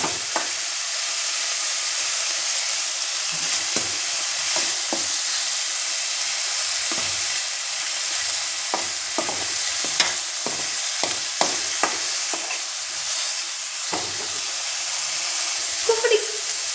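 Tomato pieces with salt and turmeric fry in a pan for an egg curry, giving a steady broadband sizzle throughout with repeated sharp clicks and scrapes of stirring, close and without talk.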